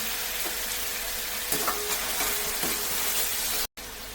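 Onion and tomato fry with salt in a pan, giving a steady close sizzle with a few light stirring scrapes. It cuts out briefly near the end, and no one speaks.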